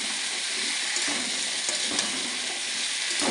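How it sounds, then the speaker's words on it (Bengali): Potatoes fry in a pan for an aloo posto dish, a steady, dense sizzle that holds at an even loudness from start to finish with no voices over it. "এবার আলুটাকে খুব ভালো করে ভেজে নেব"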